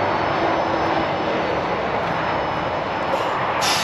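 A Fendt 1050 tractor engine drones steadily while the tractor backs off a silage mound, a constant loud, broad mechanical rumble close by with no pauses.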